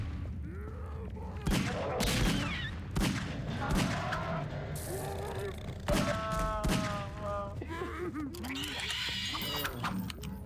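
Grenades explode in the video game Half-Life 2, a run of sharp booms and thuds mixed with game gunfire and creature sounds, with someone talking over the action.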